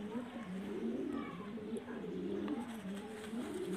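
Rampuri pigeon cooing close by, repeated soft throaty coos in a steady rolling rhythm, fairly quiet, with faint background noise.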